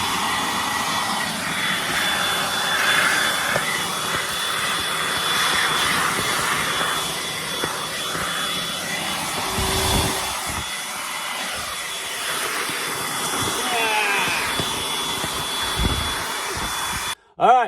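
Suction machine roaring steadily as it draws up gold-bearing gravel at a desert waterfall, a loud continuous whooshing drone with gritty fluctuations that cuts out abruptly near the end.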